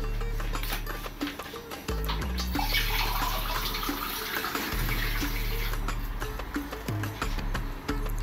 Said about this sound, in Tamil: ரெண்டு கப் தண்ணீர் விட்டு நன்றாக கொதிக்க வைக்கவும்.